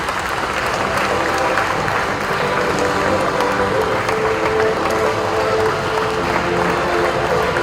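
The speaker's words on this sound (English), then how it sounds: "A big round of applause, please." Sustained applause from an audience at a karate award ceremony in Sri Lanka, many hands clapping in a dense, steady roar that holds at an even loudness throughout.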